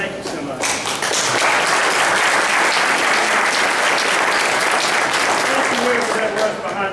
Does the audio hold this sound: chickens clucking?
no